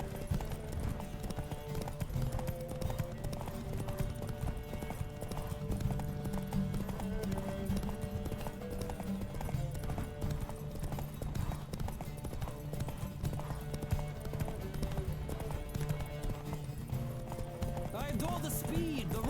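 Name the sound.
horse galloping in a race, from the video game The Witcher 3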